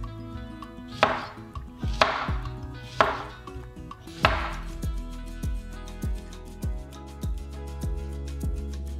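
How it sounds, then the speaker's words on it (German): A knife chops zucchini on a cutting board in a home kitchen, a few loud spaced strikes at first, then a quicker, lighter run of regular cuts, with no talk. "Nun schneide ich die Zucchini."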